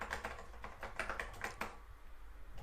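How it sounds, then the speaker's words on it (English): Fingers type on a Macintosh Plus keyboard, giving a quick run of distinct, sharp key clicks. The clicks are close and clear, then thin out into a quieter pause near the end. "type on my Macintosh Plus keyboard"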